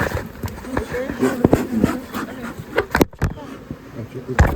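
Honey bees shaken off a queen cell frame during hive work, a dense buzzing swarm with sharp thumps and knocks from the frame, close and busy throughout.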